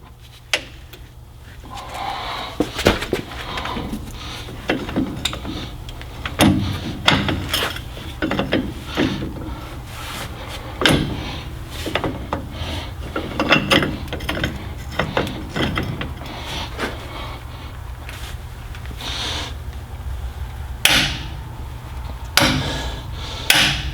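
Torque wrench tightening the outside jam nut on a rear wheel of a cabover Peterbilt truck to a final 200 foot-pounds, giving irregular metallic clicks and clanks over a low background hum in a workshop.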